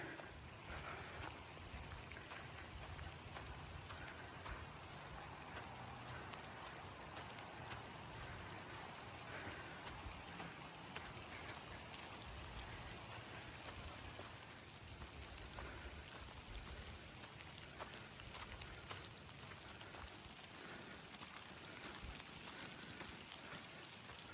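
Steady rain falling outdoors along the North Country Trail, a dense, even hiss that holds unbroken for the whole stretch with no talking.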